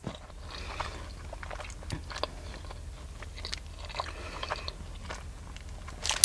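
Someone eats a McDonald's cold egg and cheese pancake sandwich close up, with soft chewing, wet mouth sounds and occasional sharper clicks and crunches repeating irregularly.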